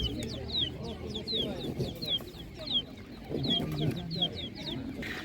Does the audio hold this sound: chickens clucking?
yes